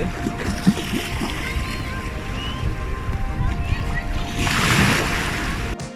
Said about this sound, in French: Écoutez maintenant le bruit des vagues